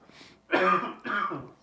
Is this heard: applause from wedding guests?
no